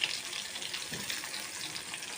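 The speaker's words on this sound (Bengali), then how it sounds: "গরম তেলের ভিতরে চুবিয়ে দিব।" Slices of eggplant sizzle steadily in hot oil, a continuous bright frying hiss with no voices over it.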